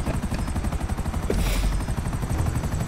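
Helicopter rotor in the video game GTA 5 Online chops in a fast, steady rhythmic thumping, loud and close throughout, with a brief sharper burst midway and no talking.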